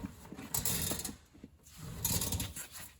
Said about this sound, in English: Now set your torque wrench to 56 foot-pounds.